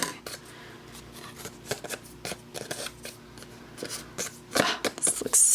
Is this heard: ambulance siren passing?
no